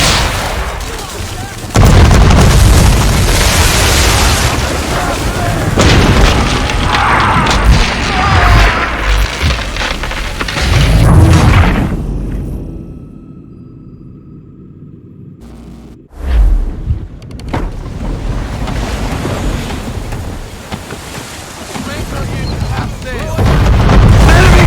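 Ship cannons booming in a naval battle in Assassin's Creed 3, heavy loud blasts and crashes with shouted voices over the fire, then a brief near-silent gap before the roar of battle resumes.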